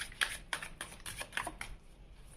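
Tarot cards being shuffled in a series of quick riffling bursts, about six short papery rattles spaced roughly half a second apart, close and fairly quiet.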